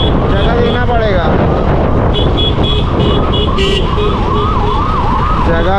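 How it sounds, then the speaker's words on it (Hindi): Ambulance siren wailing behind in dense, dusty city traffic, its rising and falling tones steady and loud over heavy road noise while a person talks. "एम्बुलेंस आ रहा है पीछे, जगह देना पड़ेगा"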